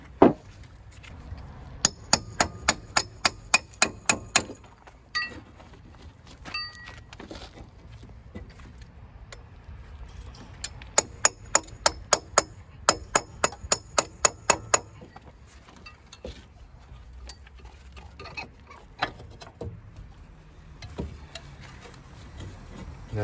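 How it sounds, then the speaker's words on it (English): A hammer strikes a front wheel bearing on a Mazda3 to drive it out of the knuckle, with rapid bursts of sharp metallic blows separated by pauses. "We're gonna try to hammer this down to trying to get it out of the knuckle."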